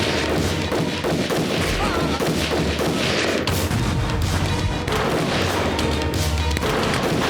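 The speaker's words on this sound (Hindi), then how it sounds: "दुश्मन के सैनिक बंदूकों से गोली चला रहे थे।" Battle scene from a Hindi film with continuous gunfire and artillery, dense overlapping shots and booming thuds under a low rumble, loud throughout with faint speech mixed in.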